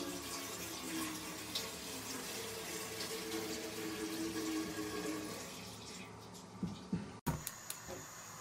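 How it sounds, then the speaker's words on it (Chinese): Tap water runs steadily into a cooking pot in a home kitchen, a continuous splashing fill that stops near the end, followed by a few clunks of the pot being handled. "锅里加水，要把这个等会焯一下。"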